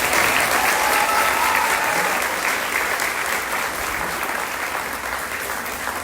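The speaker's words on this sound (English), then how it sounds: "let's give all these contestants another big round of applause" A large audience claps for the contestants at the 2025 Jackson Apple Festival Queen's Contest, a full, even round of applause holding steady throughout and tapering slightly toward the end, with no talk over it.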